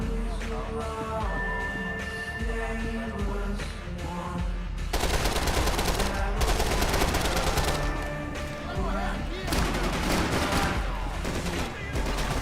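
Rapid automatic gunfire in Max Payne 3 crackles in dense bursts over a game soundtrack, with the loudest volleys clustered in the middle and late stretches, and someone talks over it.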